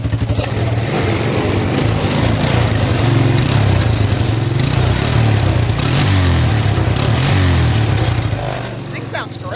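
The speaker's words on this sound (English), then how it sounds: "Just give it a little rev, and then see how it idles." A Yamaha 250 QuadRunner ATV four-wheeler engine runs close and loud, revving briefly and then settling into a steady idle, with people talking nearby.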